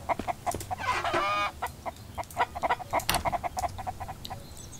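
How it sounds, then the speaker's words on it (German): Chickens in the survival video game MIST Survival cluck in rapid, repeated bursts with one drawn-out squawk, close and loud with no talking. "Ich muss diese Hühner loswerden,"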